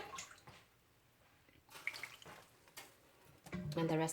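A cup of water is poured into sticky tapioca flour dough in a home kitchen, giving short splashing and trickling bursts, the last one louder and fuller, amid faint background activity.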